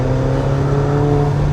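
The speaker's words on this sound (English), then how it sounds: "this thing almost takes off in the back whenever you accelerate." A car accelerates on a racetrack, a steady close engine whir with a sustained tone, loud and continuous with no voices.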